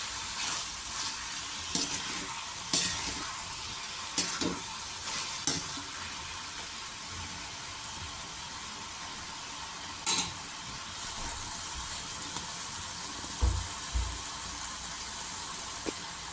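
Ridge gourd palya stirred in a pan, a steady soft sizzle of frying with a spatula scraping and clicking against the pan every second or two, alone without voices.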